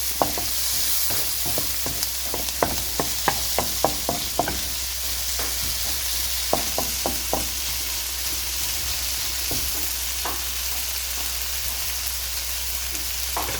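Beef dropped into a pan with soy sauce for Filipino beef mechado, sizzling and frying steadily at close range, with a broad hiss and repeated short clicks and scrapes of stirring.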